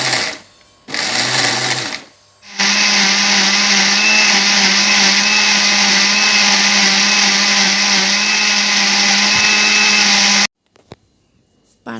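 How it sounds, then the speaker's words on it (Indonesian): A kitchen blender grinds spices for a braised beef tongue dish, starting with two short loud bursts and then running in one long steady whirring drone before stopping abruptly. "Sekarang kita haluskan bumbunya."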